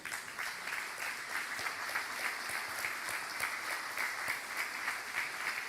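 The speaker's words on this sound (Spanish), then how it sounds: "Denle un fuerte aplauso al Señor" A church congregation applauds loudly and steadily, dense clapping with a pulsing rhythm that holds for several seconds without talk.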